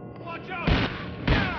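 Gunfire in the video game GTA IV: The Ballad of Gay Tony, with two loud bursts of shots standing out over a busy background of game sound and music.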